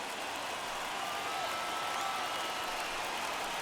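Stadium crowd in MLB The Show 21 baseball game, over 38,000 fans on their feet, a dense, steady roar of cheering that fills the background throughout without a break.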